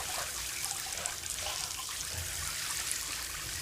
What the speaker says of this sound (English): It's just a waterfall.